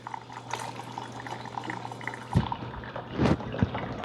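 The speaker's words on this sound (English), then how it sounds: "I'm going to go ahead and fill up this reservoir" Water splashes and trickles into the reservoir of a Cuisinart 12 Cup Coffee Center Grind & Brew Plus, filling steadily at close range, with a few louder sloshes and thumps toward the end.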